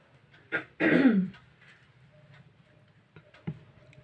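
Someone clears their throat and coughs during a shorthand writing lesson: a short rasp, then a louder, longer harsh burst close by, followed by quiet ticking and one more brief cough.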